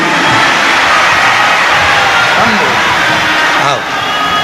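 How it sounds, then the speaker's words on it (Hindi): Large crowd applauding and cheering at a Shiv Mahapuran katha, a Hindu religious discourse at Kubreshwar Dham, a dense and loud wash of clapping that fills the whole moment and dips slightly near the end. "जोरदार गर्जना होना चाहिए तालियों की"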